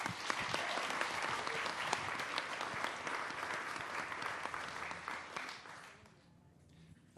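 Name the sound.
audience applause at a conference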